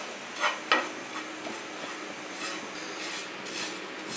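Grated coconut stirred and roasted in a pan, a soft continuous sizzle and scrape with two brief clinks of the spoon early on, close and steady with no talking.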